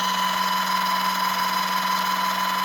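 A steady mechanical whine with a constant electric hum drones on without pause, a VEVOR electric hydraulic car jack lifting at an even pitch.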